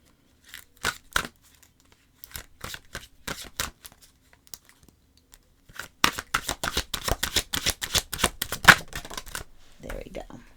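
Oracle cards being shuffled for a reading, sparse soft riffles at first, then a dense rapid run of crisp card flicks close by, ending with a brief rustle.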